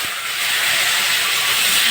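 Tomato dropped into hot mustard oil with panch phoron and a dried red chilli, giving a sudden loud hiss that swells and holds as a steady sizzle.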